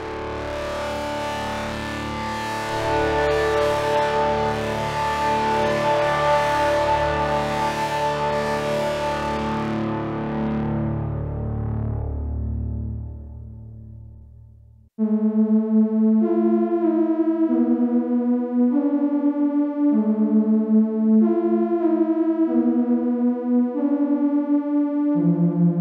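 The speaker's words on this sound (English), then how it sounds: "So what you heard there was a couple of examples of sounds taken from my Nord Lead 4." A Nord Lead 4 synthesizer plays two contrasting patches: first a dense, gnarly digital tone with heavy distortion that fades out, then a mellow, clean sequence of plucked notes in a steady rhythm.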